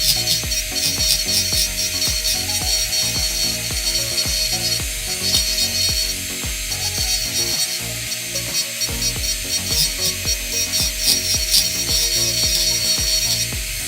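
A high-speed rotary carving tool running near 38,000 RPM cuts into wood, a constant high whine layered with rapid rattling, grinding bursts, close and steady throughout.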